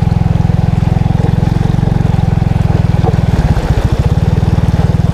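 A motorcycle chugging slowly through river water, its engine pulsing loud and close with a steady throb that stumbles and bogs briefly before recovering.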